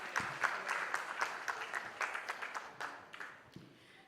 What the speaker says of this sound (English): Everyone, can we have a huge round of applause for her?